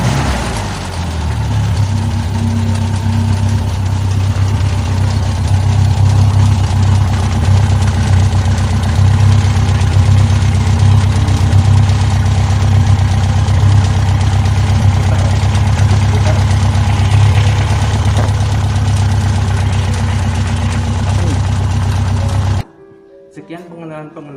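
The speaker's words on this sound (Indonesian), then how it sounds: "Lalu kita nyalakan starter menggunakan pencetan tombol" An engine started with a push button and left running at idle, a loud steady low rumble with a constant throb that holds for over twenty seconds before cutting off abruptly near the end.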